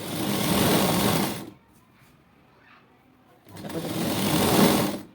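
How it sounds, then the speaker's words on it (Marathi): A sewing machine stitches a blouse edge folded half an inch. It runs in two steady whirring bursts split by a pause of about two seconds, during which a voice speaks softly. "ह्या बाजूचे काठ आपण 1/2 इंच फोल्ड करून शिलाई मारून घेऊ."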